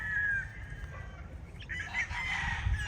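Chickens and roosters on a Philippine farm, with a rooster crowing and birds clucking close by over a low background hum; no one speaks.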